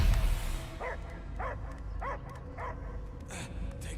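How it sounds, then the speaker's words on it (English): In the video game Guardians of the Galaxy, a dog barks five or six times in an evenly spaced series, moderately near, over a low ambient game soundscape. "I hear only barking."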